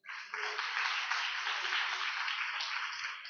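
A church congregation at a gospel prayer fellowship in Nellore claps their hands together, a sustained dense wash of applause that starts abruptly, holds at an even level for about three seconds, then begins to fade.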